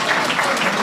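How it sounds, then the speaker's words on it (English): Audience applause at an auction held at a Cape Town masjid: a dense, loud, steady patter of many hands clapping throughout, close and continuous. "Round of applause, please, sir."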